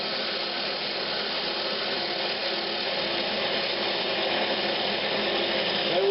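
A wood lathe turns a half-inch tenon on a tobacco pipe bowl cleaner, giving a steady, dense cutting rush that runs without a break from start to finish.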